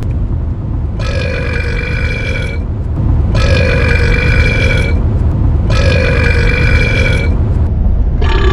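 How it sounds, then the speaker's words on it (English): Long, loud, drawn-out burps come three times in a row at a burping contest, each lasting over a second, over steady background noise with no talk. "we got new strategy on this burping contest"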